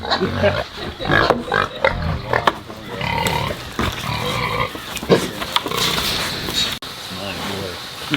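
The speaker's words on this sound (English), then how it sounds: "These are very nice pigs. The old spot, they're known to be calm." Old Spot pigs grunt and snuffle up close amid rustling and shuffling, with people talking intermittently over the animal noises.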